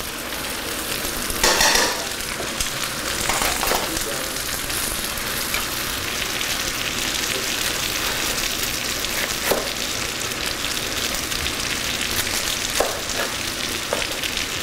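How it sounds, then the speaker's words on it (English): Red onions browning in a hot pan, a continuous close sizzle and crackle with occasional stirring scrapes, steady throughout with no voices. "I'm going to let those brown up just a little bit more."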